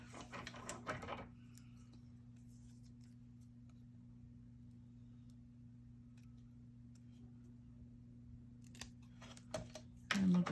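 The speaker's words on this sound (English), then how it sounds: "I think I'll cut in half" Scissors cut a greeting card in half, heard as short close snipping and paper rustle at the start and again near the end, separated by a quiet stretch over a low steady hum.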